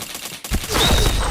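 Rapid gunfire bursts in a video game, loud and dense, with bright crackling shots packed tightly together and building through the second half without any talk.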